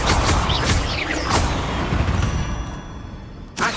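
Confringo fire spell cast in Hogwarts Legacy, a loud crackling blast with rumbling low end that sustains for several seconds, then a fresh sharp burst near the end, all alone with no talk.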